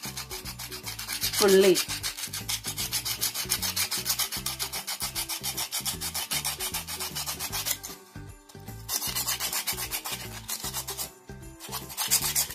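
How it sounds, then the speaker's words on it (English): Coconut shell being scrubbed with sandpaper makes a rapid, rhythmic rasping close up, steady for several seconds with two short pauses, and a voice briefly says one word near the start. "Take some coconut shell, scrub with sandpaper like this"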